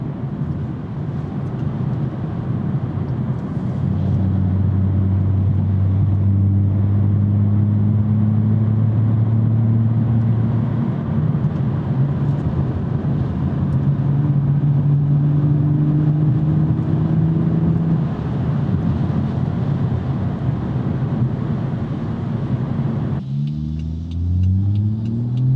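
A BMW 440i Gran Coupe with an automatic gearbox accelerates hard on a rainy autumn drive, its engine note climbing steadily through the gears with rising tones and a brief shift break near the end, loud and close with no talking.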